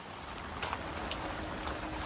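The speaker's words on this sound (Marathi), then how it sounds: "पाऊस बी आला." Rain falls as a steady, soft, even hiss, quiet and continuous, with no voices over it.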